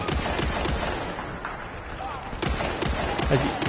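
Rapid gunfire in a Battlefield Bad Company 2 Vietnam Rush match, sniper rifle shots among dense sustained battle noise, loud and continuous with bursts near the end.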